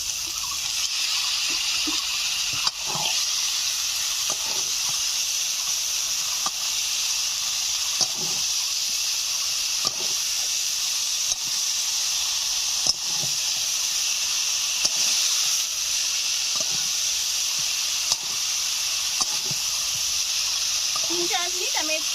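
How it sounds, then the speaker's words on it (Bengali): Steamed broccoli fried in a pan of spiced, fried masala with potatoes for fish curry, giving a long, even sizzling hiss with regular soft stirring thumps throughout. "এখন দিয়ে দিচ্ছি ভাপিয়ে রাখা ব্রকলি।"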